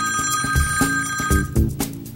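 A cell phone ringing with a repeating electronic ring pattern, loud and close, pulsing steadily with no talk over it.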